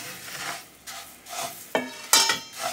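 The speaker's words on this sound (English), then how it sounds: "in this pan, I'm going to roast the coriander" Coriander seeds dry-roast in a pan, and a dry rustling scrape rises and falls as they are stirred and tossed. Several sharper scraping swishes stand out, close by, with no talk.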